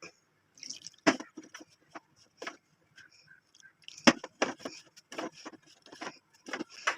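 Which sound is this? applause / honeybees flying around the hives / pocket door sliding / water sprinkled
water sprinkled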